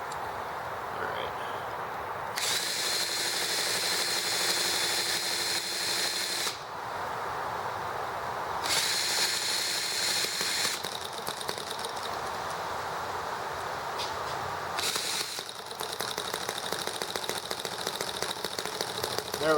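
A small EM1 engine, started after a long rest, catches and runs in loud steady stretches that cut out and restart several times, a buzzy drone with brief quieter gaps between runs.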